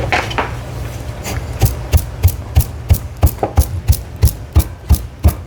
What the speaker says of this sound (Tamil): தேங்காய் பூ வறுத்து இடிக்க போகிறோம்.